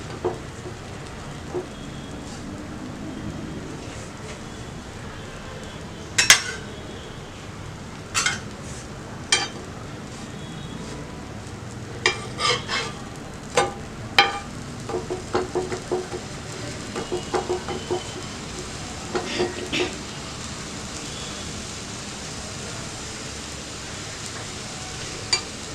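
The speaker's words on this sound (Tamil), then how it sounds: "இப்போ நம்ம இதல வந்து ஒரு ஸ்லைஸா போட்டு கொஞ்சம் டோஸ்ட் பண்ணிக்கலாம்" A bread slice toasts in a buttered pan for cheese garlic bread, giving a low steady sizzle beneath scattered clinks and scrapes of a utensil against the pan at irregular intervals, with no talking.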